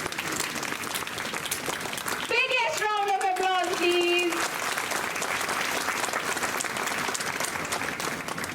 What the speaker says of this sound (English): Rachna Chaudhary, big round of applause